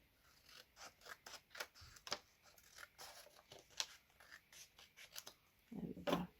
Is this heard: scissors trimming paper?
yes